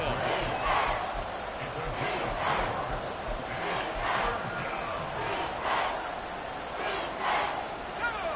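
Stadium crowd in an American football video game roars steadily as fans get to their feet late in a tied game, with swelling cheers and shouts under continuous game commentary.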